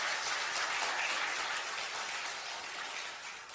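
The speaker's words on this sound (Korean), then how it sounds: "다시 한번 격려의 박수 한번 부탁드리겠습니다." A church congregation applauds in encouragement after a missionary family bound for Kyrgyzstan is honoured during Sunday worship, a steady, dense wash of many hands clapping at moderate distance that gradually eases off.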